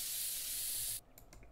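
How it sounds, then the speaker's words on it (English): A can of blue spray paint in Woodwork Simulator gives a single steady hiss for about a second, then stops abruptly, leaving a few faint clicks. "So now I need a blue spray paint."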